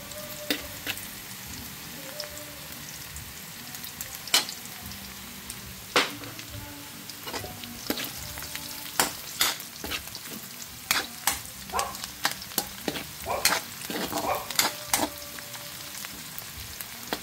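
Garlic sautés in a pan with a pinch of black pepper for a baguio beans vegetable dish. A steady close sizzle runs throughout, broken by frequent sharp scrapes and taps of a utensil stirring, which grow busier toward the end.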